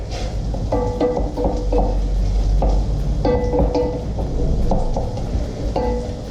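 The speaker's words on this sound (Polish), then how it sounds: "Cały czas pamiętamy o burgerach, bo one się tu ładnie smażą." Steady sizzle of burgers frying in a pan, with intermittent scraping and clattering tones from stirring over the top.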